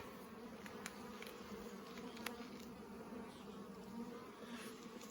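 Honeybees buzzing around an open beehive split, a steady, fairly faint outdoor drone of many wings with occasional louder passes of individual bees close by.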